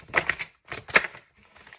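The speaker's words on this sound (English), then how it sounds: "I'll go ahead and put the group back and continue shuffling." Tarot cards being shuffled by hand, heard as two crisp riffling bursts, then a softer brief rustle of cards, close up and without talk.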